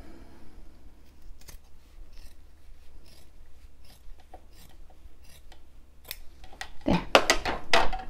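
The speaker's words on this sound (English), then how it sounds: "Got these scissors upside down." Scissors snip through power net fabric while a bra is being sewn, a few quiet cuts early on building to a louder burst of close, rasping snips near the end, with a brief spoken word.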